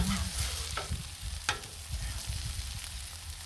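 Smash burgers frying on a Blackstone flat-top griddle outdoors on a cold evening, a constant low sizzle with a few sharp scrape-like clicks of a spatula against the steel, no talking.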